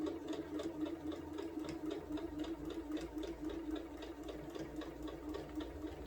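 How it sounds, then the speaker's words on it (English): A sewing machine runs steadily, stitching through a quilt block for a quilted placemat with an even, continuous whir and fine rapid needle ticks throughout. "we're going to go ahead, get that first block sewn through"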